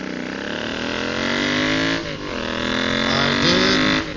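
A Royal Enfield motorcycle fitted with a DNA performance filter accelerates hard and close. Its engine note climbs through the gears with two brief dips at the shifts, loud and steady throughout.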